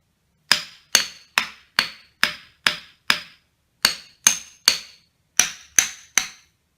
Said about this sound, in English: The instrument is a 7-bar xylophone made of pine wood construction.